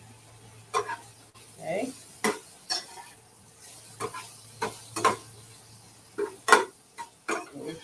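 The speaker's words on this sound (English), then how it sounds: "Set that aside and get to stirring" A spoon or spatula stirs a plant-based boudin mixture in a pan on the stove, with sparse scrapes and knocks and a faint sizzle underneath. A voice says a single brief word.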